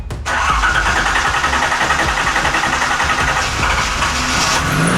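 A Datsun 280ZX with newly fitted fuel injectors cranks briefly and fires, catching at once into a loud, steady, slightly uneven idle that runs on close by without a break.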